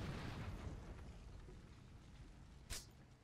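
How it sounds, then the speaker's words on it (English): Mortar shells explode in the shooter Far Cry 2. Low rumbling booms roll underneath, then one sharp, loud burst lands near the end. "Oh shit, mortar"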